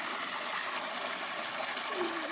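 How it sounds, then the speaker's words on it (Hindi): Spring water pours in a steady broadband rush at a stone spring outlet in Kinnauri country, a constant gushing hiss with no pauses and no voices, moderately loud and close. "और ये चश्मा का पानी है"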